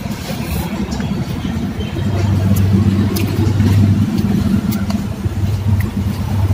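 A car being driven on a road gives a steady low engine rumble with road noise inside the cabin, fairly loud and continuous, swelling slightly partway through.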